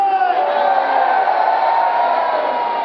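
A large crowd of about 8,448 people at an outdoor festival in Laxe, Galicia, roars together on a count in a sustained, loud shout that holds steady without pause, voices blending into one wall of sound.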